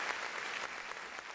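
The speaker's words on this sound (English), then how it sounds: "I don't deserve those claps." Faint, steady clapping from a small group runs for just over a second during a livestream, with no speech over it.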